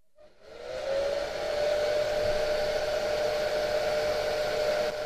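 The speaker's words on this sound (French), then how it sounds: "Ensuite, le sèche-cheveux." A hair dryer switches on and blows steadily onto a DHT22 temperature and humidity sensor, a loud whirring rush with a steady whine, running without pause.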